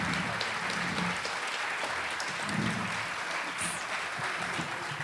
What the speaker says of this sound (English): Give the candidates one last round of applause,